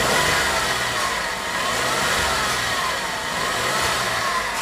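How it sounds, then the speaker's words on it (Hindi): A noisy car engine with a failing belt pulley bearing runs loud and close, holding a continuous harsh drone with mild swells of revving throughout, alone without talk. "इंजन का आप साउंड सुन लो कि इंजन कितना साउंड कर रही है,"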